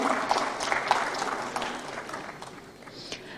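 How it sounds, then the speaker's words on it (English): Audience applause at a formal award ceremony, a moderate burst of many hands clapping that gradually thins and fades, heard from a middle distance in a hall. "A round of applause."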